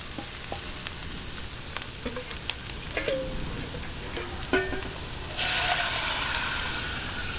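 Garlic and onion sautéing in a pan make a soft, steady sizzle with scattered light clinks of a utensil, and a louder burst of hissing near the end.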